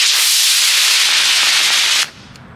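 Quest UFO model rocket lifting off on a C60 motor, a loud, steady roaring hiss of the burning motor for about two seconds that cuts off abruptly, leaving faint outdoor ambience.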